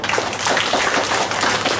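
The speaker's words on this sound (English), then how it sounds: "Let's clap for him." Brief burst of audience clapping after a speech at a school declamation competition, dense and even, moderately loud, with no talk over it.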